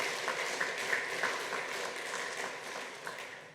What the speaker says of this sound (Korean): 여러분 박수해 주시기 바랍니다.